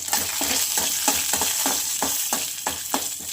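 Grated coconut, already roasted once, dry-roasting again in a pan for Maharashtrian katachi amti, with a steady loud scrape of stirring repeating about every half second over a continuous dry sizzle.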